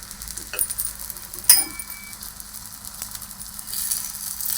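Holige flatbread with oil added sizzling on a hot griddle, a soft steady frying hiss with a few small clinks and taps, quiet and close, no talking.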